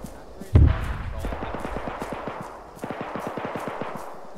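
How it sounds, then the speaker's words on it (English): Gunfire in the military shooter ArmA 3: a heavy thump is followed by rapid automatic bursts, a steady stream of close, evenly spaced shots that pauses briefly and then resumes. "Shots at us north."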